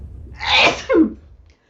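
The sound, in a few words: sneeze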